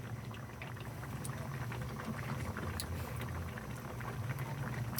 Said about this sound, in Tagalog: Nakulo na siya, Bilis daw kumulo.